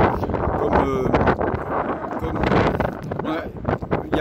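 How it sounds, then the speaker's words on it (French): Coastal wind at Pointe de Saint-Mathieu buffets the microphone in loud, gusty rumbles that rise and fall throughout, with a voice speaking under the blustering noise. "il y a pas mal de vent"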